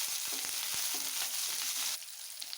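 Shallots, curry leaves and dried chillies sautéing in hot oil for a traditional dried-fish kulambu, a dense close sizzle broken by a few spoon scrapes, dropping quieter near the end.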